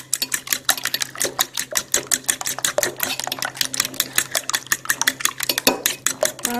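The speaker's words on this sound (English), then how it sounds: "Now that we've stirred the egg" Raw eggs are beaten in a bowl for scrambled eggs, with fast, steady clinking strokes of a utensil against the bowl, close and fairly loud throughout.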